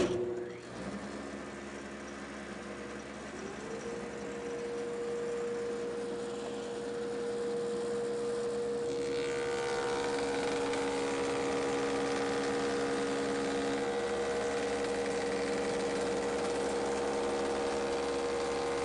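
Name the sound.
Woodmaster molder planer machining curved molding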